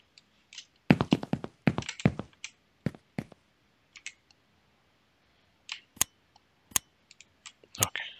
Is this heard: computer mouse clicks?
yes